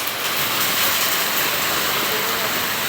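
Steady, dense hiss of heavy rain pouring without a break during a storm in a village, a broad wash of sound with no voices.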